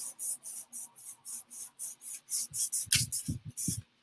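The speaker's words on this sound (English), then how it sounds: "And by sanding over the stencil, you get the stencil bits." Rhythmic back-and-forth sanding strokes rasp across a stencil on an art journal page, about two per second, close and steady, with a few low knocks near the end.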